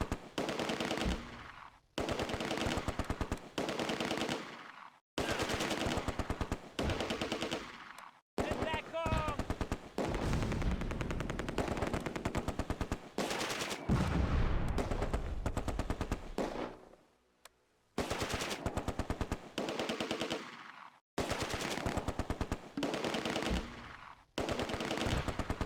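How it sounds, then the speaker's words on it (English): Heavy machine gun fire from an MG42 and the weapons hitting it in the Close Combat: A Bridge Too Far video game at Arnhem Bridge, rapid loud bursts broken by short pauses, with some louder blasts in between. "An MG42 in the 3-story building becomes the next target for concentrated fire."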